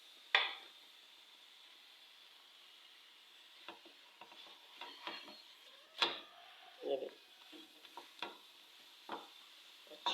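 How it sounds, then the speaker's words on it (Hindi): Besan roti frying in a little oil on a hot griddle, with a soft sizzle under the session's scattered clinks and stirring noises, some faint speech moments in the background. "अच्छे से गोल्डन कलर से रोटी को बिल्कुल पका लेना है"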